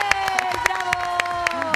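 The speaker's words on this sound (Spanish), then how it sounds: "Aplauso para Cristel" A studio audience on a Chilean TV talk show claps in a quick rhythmic burst, sharp regular claps under music with a sustained tone, short and close.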